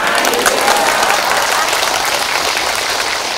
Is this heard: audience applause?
yes